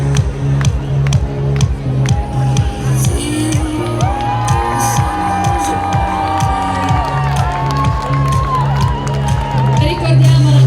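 At a local festival pageant, a crowd claps and cheers for the winning contrada, loud whoops and shouts over a rhythmic thumping beat, with clapping mixed into the noisy celebration.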